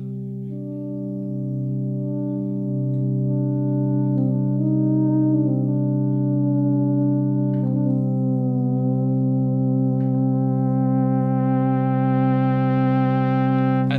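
A sustained tone from the internal sound engine of an Expressive E Osmose synthesizer with rich harmonics holds steady, with subtle shifts and brighter overtones swelling in toward the end; no talking.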